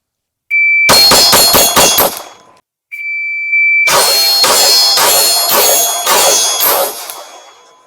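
A Glock pistol fires at steel targets: a shot-timer beep, a quick string of about five loud, sharp shots with ringing metallic clangs, then a second beep and a longer rapid string of shots and clangs.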